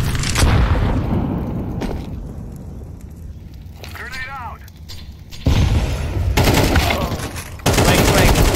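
HE grenade detonation in a tactical shooter game, with loud blasts and gunfire crackle in the mix and booming bursts near the end, under the players' voice chat.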